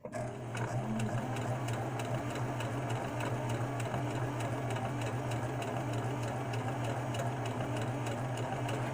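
A sewing machine runs at a steady, even pace while stitching fabric, giving a close, continuous mechanical hum and rapid ticking with no talking.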